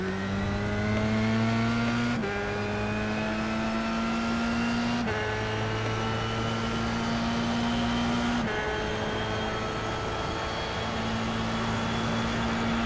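Formula 3 race car accelerating hard at Circuit Gilles Villeneuve: a loud, close, rising engine whine climbs through three quick upshifts, each shift dropping the pitch before it climbs again.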